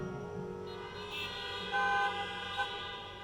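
An audience in a crowded stadium, Allianz Parque, sounds horns together, producing a steady, fairly faint droning blare that swells and fades over a few seconds.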